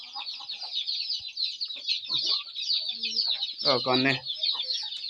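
An Aseel rooster clucks repeatedly inside a basket, with short throaty calls rising to a louder burst, close up over a constant high background hum; a voice speaks briefly.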